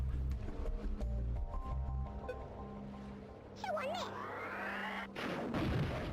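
A homing missile is launched and explodes in a Worms video game: cartoon game effects and a whooshing flight sound, then a burst, while a person talks over part of it.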